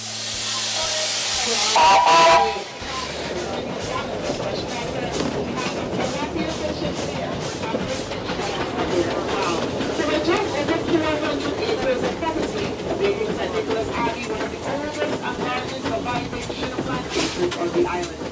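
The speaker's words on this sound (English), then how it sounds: "Just boarded the train here at St. Nicholas Abbey. Getting ready to take off." Tourist train setting off at St. Nicholas Abbey, Barbados, with a steady rumbling run and hissing steam, a sharp whistle-like burst near the start, and people talking over the continuous rolling noise.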